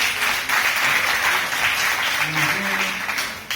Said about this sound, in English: Clap Glenn one more time